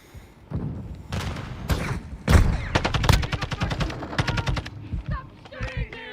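Rapid bursts of automatic rifle fire in Call of Duty Modern Warfare II, close and loud, with several sharp rattling volleys separated by short pauses and fainter shots trailing off at the end.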